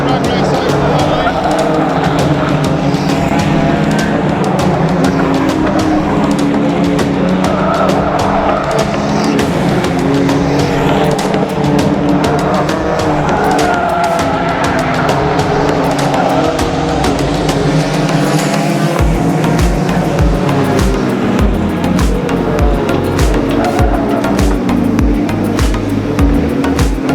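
Banger race cars in an unlimited old school grand final roar toward the finish line on an outdoor track, engines loud and continuous with rattling and revving, while a commentator talks over the racing throughout.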